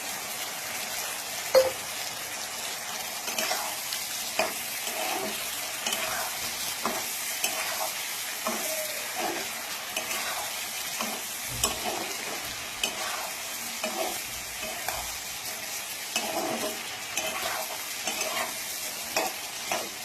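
Cubed ripe tomatoes hitting a pan of chilli chicken: continuous close sizzling and frying crackle with steady stirring scrapes throughout, no voices.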